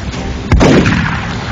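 A shotgun blast from XCOM: Enemy Unknown lands about a third of the way in, one sharp, loud report with a low thump. A rumbling tail fades over the following second, with no talk over it.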